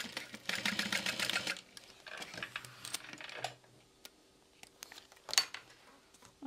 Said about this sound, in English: So I'll go ahead and baste these down too.